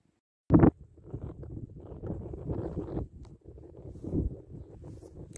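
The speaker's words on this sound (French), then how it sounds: "Du vent." Wind at a grey Breton beach near Plougonvelin buffets the microphone in low, rough gusts after a sudden opening thump, rising and falling unevenly throughout.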